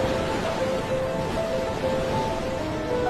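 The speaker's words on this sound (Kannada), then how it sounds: "ಅಲೆಗಳ ಸದ್ದು ಕೇಳ್ತಾ ಇದ್ರೆ ಜೋರಾಗಿ ಹಾಡಬೇಕು ಅನ್ಸುತ್ತೆ" Ocean waves wash steadily onto the shore at Honnavar, a continuous hiss and roar with soft sustained musical tones faintly beneath.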